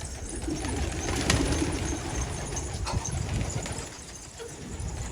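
Pigeons, including a Dutch tumbler, coo softly amid outdoor ambience with scattered flutters and small knocks, the calls low and fairly close.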